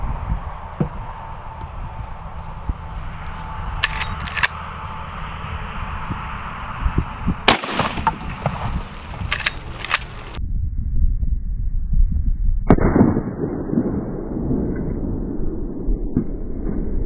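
A Marlin 1895 Guide Gun rifle fires at an empty paint can outdoors, giving a loud sharp report midway through, with further loud shot-like bursts and rumbling noise around it.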